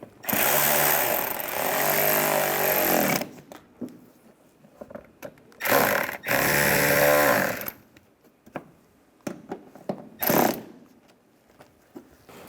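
Loud power tool runs in sustained bursts while tightening fasteners on the emblem of a 2011-2015 Chevrolet Cruze, a long buzzing run followed by shorter bursts and clicks up close.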